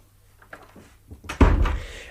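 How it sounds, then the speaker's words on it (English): An interior door swings and closes with a muffled thunk in a Sherlock Holmes audio drama, a single solid shut after faint creaks, heard alone without talk. "close the door behind you"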